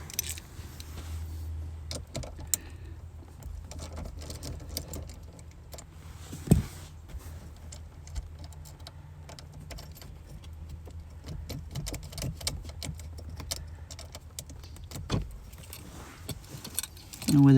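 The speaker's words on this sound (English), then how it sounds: "we'll go ahead and get the negative terminal off here right quick. And that is just a 10 millimeter" A 10 mm wrench and metal clatter at the negative battery terminal of a 2017 Jeep Grand Cherokee SRT, with repeated light jangling taps and clicks over a quiet background.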